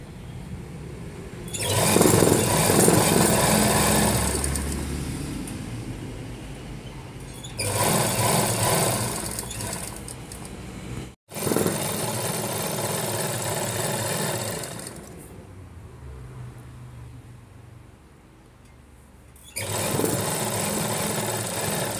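A sewing machine runs along the back-side seam of a midi dress in several loud bursts of a few seconds each, separated by short pauses and near silence.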